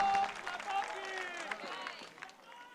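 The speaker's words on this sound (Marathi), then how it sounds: "एकदा जोरदार टाळ्या होऊन द्या" A crowd at a political campaign rally breaks into a round of applause, with steady clapping running throughout and voices mixed in over it.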